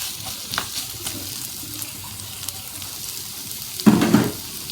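Chopped onions, about a cup, go into nearly hot oil for a chicken cheese bun filling, giving a soft steady sizzle that swells into a louder burst of frying near the end, with no talk.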